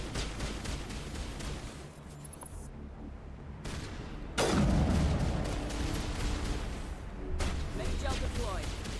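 Rapid bursts of gunfire in the Mass Effect video game crackle in clusters, with a heavier boom in the middle and game voices talking between the volleys.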